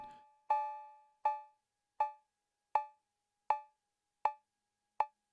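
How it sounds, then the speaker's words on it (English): A metallic 808 drum-machine cowbell strikes seven times in a slow, even rhythm, each hit short and bright with a quick decay, alone and clean. "808 cowbell, because I like it"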